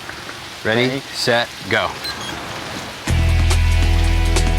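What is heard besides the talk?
heavy rain falling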